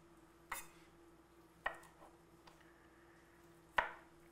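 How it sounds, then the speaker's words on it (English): A kitchen knife chops garlic on a cutting board, giving three sharp, separate knocks spread unevenly over a few seconds against a quiet background with a faint steady hum. "All right, so I'm chopping this up."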